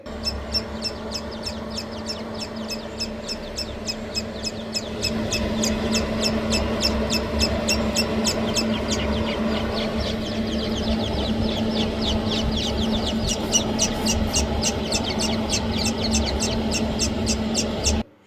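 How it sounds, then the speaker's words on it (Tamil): Six newly hatched grey francolin chicks chirp continuously in a dense, rapid chorus of high peeping calls, close and steady throughout, over a low background hum. "பாம்பு வயிற்றுக்குள்ளே போன ஆறு முட்டையும் குஞ்சு பொறிச்சு கீச் கீச்சுன்னு இப்போ ஜாலியாக கத்திட்டு இருக்குதுங்க"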